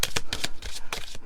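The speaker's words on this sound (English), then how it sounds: "why is she shuffling forever?" Oracle cards being shuffled close up, a rapid run of papery riffling bursts in an uneven rhythm, loud and without speech.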